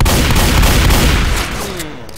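A shotgun goes off in the zombie shooter Left 4 Dead 2, a loud booming blast whose rumbling tail fades over a couple of seconds.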